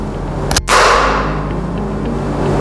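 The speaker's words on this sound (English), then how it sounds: "this is basically how loud the gun can be in an enclosed area" Lizzy Gecko toy blaster fired once indoors in an enclosed room, a single sharp whip-like crack, followed by a lingering noisy decay.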